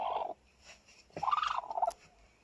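A broody hen up close gives two drawn-out, throaty clucking calls separated by a short pause.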